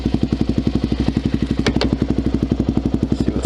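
A supermoto motorcycle on a commute home thumps along with a loud, rapid, regular engine beat close by, with a brief clatter partway through.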